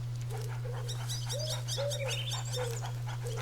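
A dog in the video game A Plague Tale: Innocence gives short whines and whimpering yelps in a few brief bursts over a constant low game hum, with birds chirping in the background.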